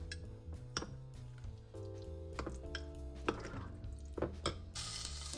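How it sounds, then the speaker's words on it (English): Cranberry sauce with mustard, lemon juice and cloves being stirred in a dish. Faint clinks and taps of the utensil against the bowl come irregularly, with soft wet squishing over quiet background music. "You're gonna stir it all together."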